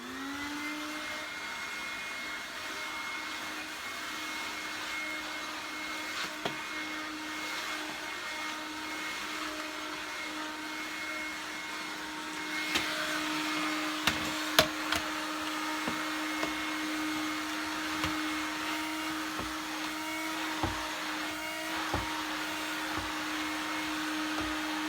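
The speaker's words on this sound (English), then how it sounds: "So I can use this proper floor head on it, and then I can use it as a floor vac." A Dyson DC07 upright vacuum cleaner runs with a floor head fitted, giving a steady whining motor drone throughout, with a few clicks and knocks as the head is pushed around the floor.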